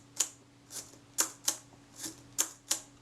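The shutter of a Kodak Retina Ia camera set to B is cocked and released repeatedly, producing seven crisp, close mechanical clicks at uneven intervals over quiet background.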